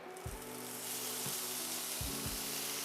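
Bacon frying on a preheated cooktop: a steady, fairly loud sizzle with broad crackling hiss throughout, punctuated by a few low thumps and clatter as the strips settle in the pan.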